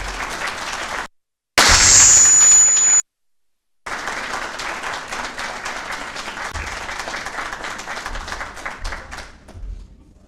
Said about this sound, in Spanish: Por favor, un fuerte aplauso para Horacio Giusto.